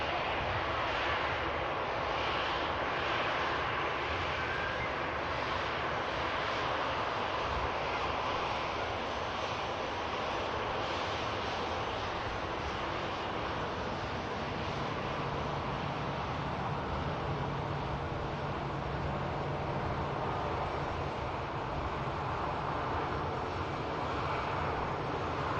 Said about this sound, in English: Also have a BizJet on the way over for the second runway. Service Liege, Manchester to Glasgow, Cessna Citation Mustang,